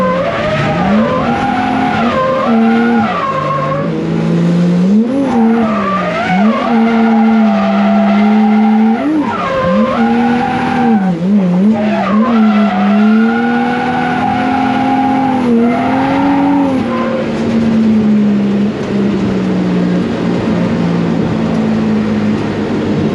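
A Nissan S13 drift car circles a track in Vegas with its engine wailing and rising and falling in pitch through repeated throttle blips, tires squealing and skidding, loud and continuous throughout.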